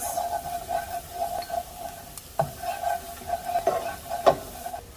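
Diced onion, garlic, salt and crushed red pepper flakes fry in olive oil, giving a soft, even sizzle with a tonal hum under it. A utensil stirs and clicks against the pan a few times.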